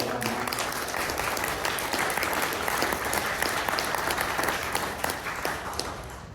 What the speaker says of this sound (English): can we just have a massive round of applause for Chris to say well done